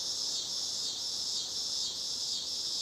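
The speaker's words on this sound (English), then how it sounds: "the cicadas coming out now. They're pretty intense around here." Intense, continuous high-pitched buzzing of cicadas outdoors, steady and dense with slight pulsing swells, heard alone without talking.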